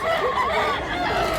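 A rooster crows in a farmyard kept three years, one drawn-out call filling the moment at close range over steady background noise.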